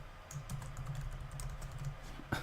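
Quiet, rapid typing on a computer keyboard during an online chess tournament, a soft stream of closely spaced key clicks with a slightly louder tap at the end, no voices.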